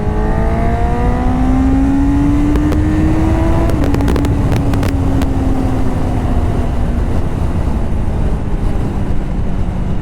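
A 2025 Honda CBR 650R motorcycle accelerates hard on an open road, its engine note rising steadily in pitch with a brief dip at a gear shift before climbing again, loud and close over constant wind and road roar.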